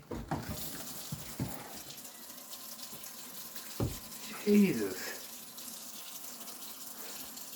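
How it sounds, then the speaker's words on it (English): Water runs steadily from a household tap into a sink after a dishwasher is emptied, a continuous hiss with a few clunks and bangs near the start. One person speaks a single brief word partway through. "I just have to run the water and see."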